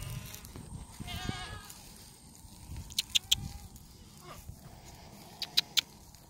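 Goats on a farm call out in a few short, thin bleats, scattered and moderately distant over quiet outdoor background noise, with a couple of brief clustered bursts.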